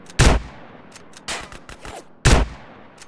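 Gunfire in GTA: San Andreas: two loud, sharp shots about two seconds apart, with fainter cracks and clatter in between.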